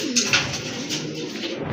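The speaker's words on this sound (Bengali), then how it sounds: "মাশাল্লাহ দেখেন আরেক জোড়া কবুতর, কোয়ালিটি ফুল কবুতর মাশাল্লাহ, এক জোড়া মুখী কবুতর" A pair of fancy pigeons coos softly and close by, a short run of low, throaty coos with no voices over them.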